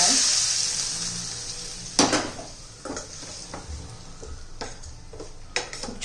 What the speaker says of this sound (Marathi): त्याच्यामध्ये आपण मोहरी घालणार आहोत थोडीशी जिरं घालणार आहोत आता चटणी तेल घालून घेणार आहोत आपण तडका